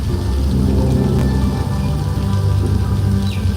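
Simulated rain pours steadily in a studio back lot flash flood attraction, a loud, dense, continuous wash of falling water with a low rumble underneath.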